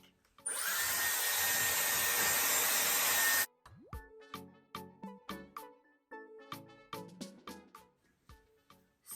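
A Dyson Airwrap blasts air onto hair roots, a loud, steady high-pitched blowing hiss for about three seconds, then stops and is followed by a series of short, sharp clicks and knocks.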